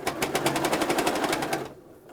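A sewing machine stitches down the binding on a fabric potholder in a steady rapid rhythm of close, loud needle strokes. It stops abruptly near the end.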